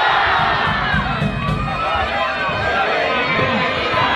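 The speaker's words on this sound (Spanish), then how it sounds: "hay que gritar con fuerza, ¡viva la Virgen de Caballeros!" A large crowd shouts and cheers at the opening-rocket chupinazo of the village festival in Villavieja de Yeltes, Spain, voices massed and loud throughout in continuous roaring babble.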